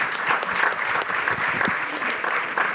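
A conference audience at a leaders summit session applauds the participants and speakers, a steady, fairly close burst of clapping with no talking.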